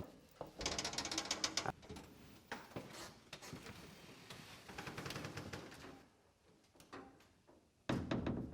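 A key turns in the lock of an antique iron safe cabinet with a 1791 lock, producing close clicking, ratcheting and clunking mechanism sounds in bursts with brief pauses.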